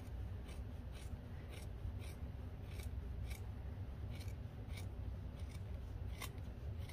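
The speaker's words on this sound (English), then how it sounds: "you can go ahead and trim this seam" Scissors trim a sewing seam, giving a run of crisp, close snips in an even rhythm over a soft, steady background.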